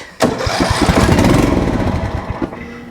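A loud small engine of a John Deere Z225 riding lawn mower with no fuel reaching the filter cranks and sputters, turning over rapidly with a rough rumbling rhythm for a couple of seconds without settling into a steady idle.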